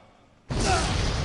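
A single muffled cough into an elbow, close and fairly loud, a broad breathy burst after a quiet moment that holds for almost a second, with no talking.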